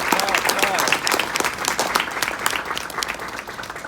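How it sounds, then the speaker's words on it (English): Applause from a luncheon audience fills the room, a dense patter of many hands clapping, loud at first and easing slightly, with voices faintly mixed in. "Clap, clap, clap."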